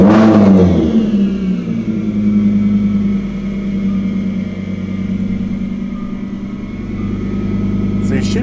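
A supercharged Lamborghini LP800-2 V12 idles loudly and steadily after start-up, a sustained engine drone carrying a faint supercharger whine, with a person talking over it.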